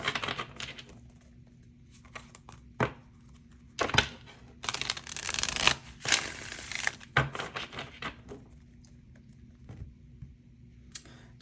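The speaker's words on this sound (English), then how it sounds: "I shuffle the deck" Tarot cards riffled and shuffled by hand, soft papery flutters and taps in short bursts, near and quiet, heaviest in the middle stretch.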